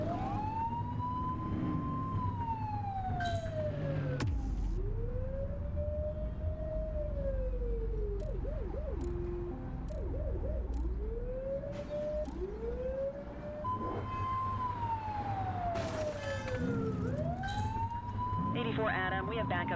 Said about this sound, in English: Get behind them and blip the siren to make them pull over.